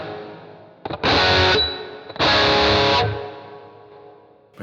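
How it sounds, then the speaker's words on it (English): Distorted electric guitar through a ducking reverb on a Boss GT-1000 processor: two loud sustained strummed chords, each cut off sharply, after which a reverb tail swells up and slowly fades in the gaps. "Let's crank the reverb now so you can actually hear what's going on."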